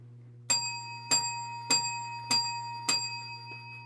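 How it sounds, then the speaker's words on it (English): Five evenly spaced bell strikes ring out about half a second apart, each a bright metallic ding with a short decaying ring, over a steady low hum in a quiet room. "I gave you five bell rings"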